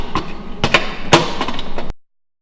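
A rivet is driven on an aircraft pilot's door during a Fleet Canuck restoration, heard as a series of sharp, close metallic rapping bursts from a rivet gun, several spaced hits followed by a rapid rattle that stops abruptly.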